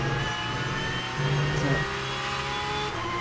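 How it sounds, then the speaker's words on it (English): A Porsche 992 GT3 race car's engine roars on board at the Portimao circuit, held at a high, steady pitch with brief shifts in tone through turns, loud and continuous while a commentator talks over it. "Listen to the engine sound."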